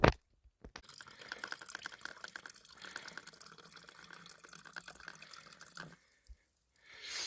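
Well water poured through a filter bottle outdoors at a bivouac, a steady trickling splash running for several seconds after a brief knock, then cutting off before a short final gurgle.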